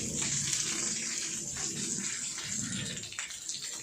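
A small homemade garden waterfall built as budget summer entertainment pours continuously, a steady close gushing splash of falling water that holds evenly from start to finish with no talking.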